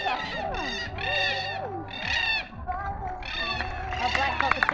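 Black cockatoos at Taronga Zoo give repeated harsh, wavering calls, loud and close, while people talk nearby.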